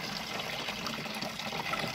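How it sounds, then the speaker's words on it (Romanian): Water pours steadily into a small bucket, a continuous splashing rush at moderate volume with no talk over it. "Iar acum vom pune 4 litri de apă pe care am măsurat în"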